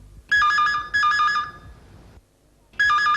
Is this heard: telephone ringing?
yes